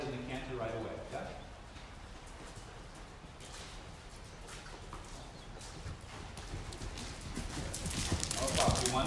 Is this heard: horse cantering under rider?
yes